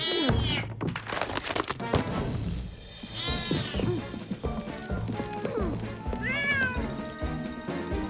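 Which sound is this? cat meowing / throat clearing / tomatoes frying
cat meowing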